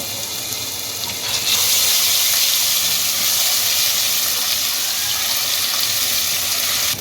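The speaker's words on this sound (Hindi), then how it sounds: "जब मसाले ऑयल में फ्राई हो जाएं तो इसमें हाफ टेबल स्पून लहसुन अदरक पेस्ट वो डाल दें" Garlic ginger paste hits hot oil for chicken shahi kofta and sets off a loud, steady hiss that swells after the first second and holds evenly to the end.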